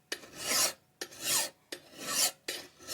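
Steel file rasping along an axe edge: four slow, even strokes, each a harsh scrape with a short pause between, close and clear with no talk.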